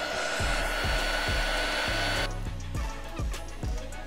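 A heat gun blows steadily on vinyl blackout wrap being fitted to a 2017 Tesla Model X, a continuous airy roar with a lower rumble that shifts in tone partway through, close and loud throughout.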